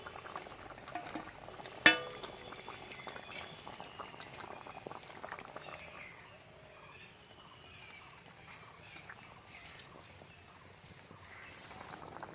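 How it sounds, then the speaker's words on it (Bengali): Water boiling in a pan for a bottle gourd and fish curry, a steady bubbling simmer with soft popping throughout and one sharp knock near the start, no talking. "ফুট চলে এসেছে"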